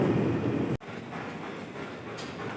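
Steady rumble of a train in a station, with a brief cut partway through and the rolling noise continuing at a constant level.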